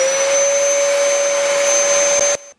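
A vacuum cleaner whines steadily with a high motor tone, running loud and close, then cuts off abruptly near the end.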